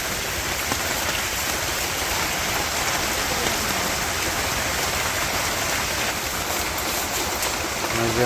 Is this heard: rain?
yes